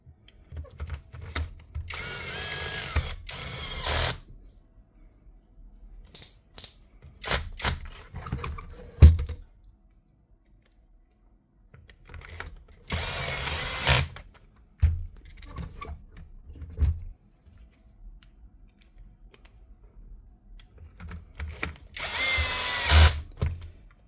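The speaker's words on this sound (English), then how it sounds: "One Dewalt core drill with the field repaired and the clutch tightened up." A repaired Dewalt core drill, its field rewound and clutch tightened, runs in several loud bursts of a few seconds each, separated by quieter gaps with handling clunks.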